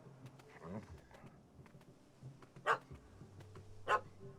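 Two short, sharp dog barks from a puppy in The Witcher 3, spaced about a second apart against a quiet game background with soft ambient rustle.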